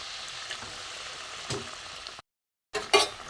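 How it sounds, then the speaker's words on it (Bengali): Fried katla fish pieces go into a simmering mustard-poppy seed paste curry: a steady soft hiss of bubbling, a brief break, then a couple of sharp, bright sizzling splashes close by. "ফুটে গেছে, মাছ ভাজাগুলো দিয়ে দেবো।"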